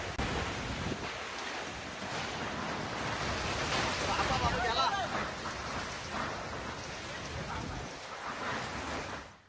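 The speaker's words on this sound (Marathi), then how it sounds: "शहापूरमध्ये सोसाट्याच्या वाऱ्यासह तुफान पाऊस झालाय" Strong gusty wind and heavy unseasonal rain lash Shahapur in a storm, producing a steady, dense roar of rainfall and wind noise that holds throughout without pause.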